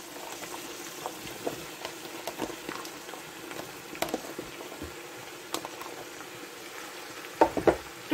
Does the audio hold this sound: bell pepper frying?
yes